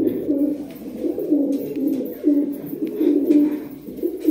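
Black high-flying pigeons coo in soft, low repeated throaty calls at close range, a steady murmur of several birds with faint background noise and no talk.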